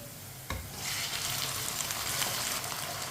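Cut chicken pieces drop into a hot pan of browned onions for chicken rice, a sudden thump followed by a loud, continuous close sizzle and frying hiss.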